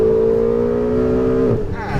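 Ferrari 488 GTB on a track in Las Vegas sustains a strained, steady engine note under acceleration, then the pitch sags and trails off as the car eases off the power.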